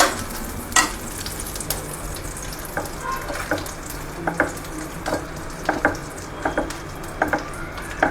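Raisins fry slowly in ghee over a low flame for a fasting-day samak rice kheer, a soft continuous sizzle with irregular sharp clinks and scrapes of a spoon against the pan.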